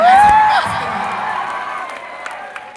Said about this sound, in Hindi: एक बार जोरदार इसके लिए ताली बजाइए।